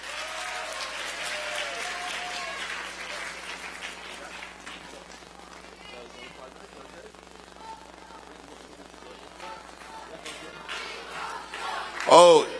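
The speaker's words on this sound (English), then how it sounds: "And clap your hands for Chippy." An audience at a children's program during a live-broadcast emissaries' conference claps steadily. The applause is strongest early on, then thins and fades, with voices heard over it and a brief loud burst near the end.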